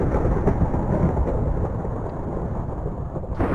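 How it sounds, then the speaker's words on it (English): A Minecraft thunderstorm fills the whole stretch with a steady, dense roar of rain and rumbling thunder that never lets up, and nobody speaks. "I was expecting an achievement sound, not a thunderstorm sound."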